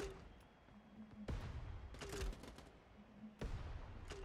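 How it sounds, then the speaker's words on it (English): Grenade launcher shots boom in a competitive match of Quake, several heavy thumping blasts spaced a second or two apart, each with a low rumbling tail, amid busy game noise. "Grenade launcher shots from both sides."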